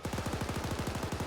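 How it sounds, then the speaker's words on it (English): An M240 machine gun fires a rapid, evenly spaced burst in the military video game Arma 3, loud, continuous and close with no voices over it. "So the gunner finally has access to a M240"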